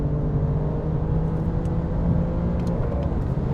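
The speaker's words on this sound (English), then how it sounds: "it's a good engine, it sounds good" A steady, close Alfa Romeo Giulia Quadrifoglio 510 hp engine hums and whirs at a constant pitch with a low rumble, no talking over it.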